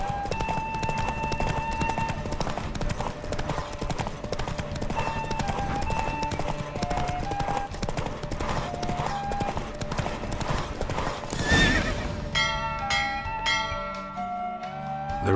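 Horse galloping in a race in The Witcher 3, a steady fast clip-clop of hooves under game music, with a brief burst of crowd or effect near the end.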